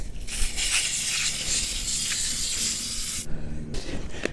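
Frost King foaming coil cleaner sprays onto the coils of a Dometic Penguin II air conditioner, a loud, steady hiss lasting about three seconds, then a short pause and a second burst of spray.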